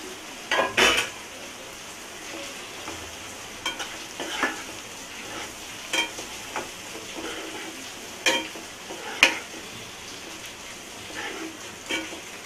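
Spiced prawns frying in a pan with ginger garlic paste give a steady sizzle under repeated scraping and clattering stirs of a spoon against the pan, with no talk.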